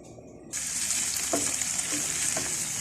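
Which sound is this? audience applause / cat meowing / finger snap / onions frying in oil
onions frying in oil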